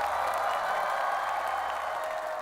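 Studio audience at a televised music show applauding a singer, a steady wash of clapping and light crowd noise lasting throughout, with no talk over it.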